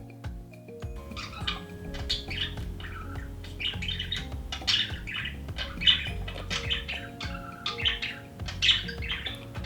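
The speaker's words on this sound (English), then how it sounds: "I don't know if these birds are gonna let me talk." Several birds chirp and squawk in repeated bursts, close and lively, over a low steady background hum.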